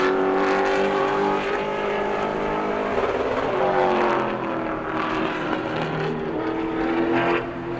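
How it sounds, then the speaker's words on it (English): A pro late model race car on an oval track during qualifying laps, its loud engine roaring past with a rising then fading tone as it passes close by, then receding. "Here comes the 17 car Colby Clements."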